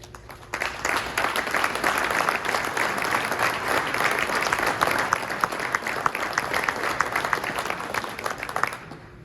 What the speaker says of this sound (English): let's give that group a round of applause to get started